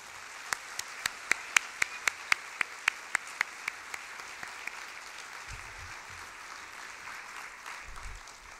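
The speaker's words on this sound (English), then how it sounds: "Please join me for one more round of applause for Kai Kite." Applause at an engineering education conference plenary, opening with a string of sharp, distinct claps spaced evenly near the microphone, then thinning into a softer, fading patter over a steady room hum with low thumps near the end.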